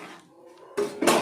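Metal pot and lid clatter in a home kitchen as a vegetable curry is stirred and covered, a faint scrape followed by two loud clanks close up.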